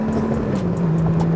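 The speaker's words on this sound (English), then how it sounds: "I call this exhaust a glorified sewing machine, because that's what it sounds like, a freaking sewing machine." Exhaust of a 2021 Honda Goldwing motorcycle, a smooth, quiet, steady engine hum with an even drone and no gaps, heard close by.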